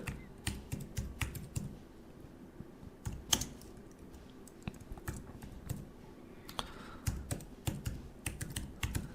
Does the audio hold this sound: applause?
no